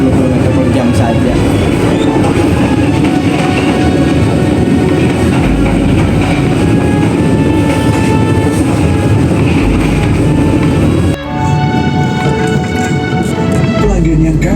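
KA Jayabaya passenger train running steadily on the rails, a loud continuous rumble and rattle of wheels heard from inside, with a sudden shift in tone near the end.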